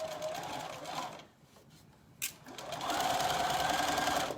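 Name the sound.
sewing machine stitching forwards and backwards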